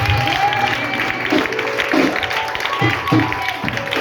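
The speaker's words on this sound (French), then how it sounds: "Acclame encore royalement de Dieu" Members of a church congregation applaud and cry out in acclamation to God, a dense, roomy wash of clapping and voices with a preacher's speech breaking through at moments.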